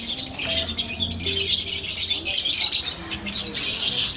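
Green Ewing opaline lovebird hen chirping and squawking in a cage, a steady stream of high, busy calls with other birds chattering nearby and a low hum underneath.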